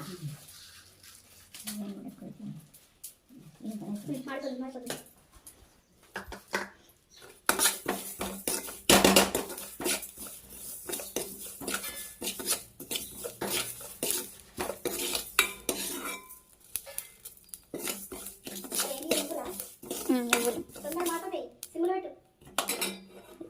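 A spoon scrapes and clinks against a pan while tamarind chutney ingredients such as garlic fry over low heat, with busy metallic stirring and a child and an adult talking over it.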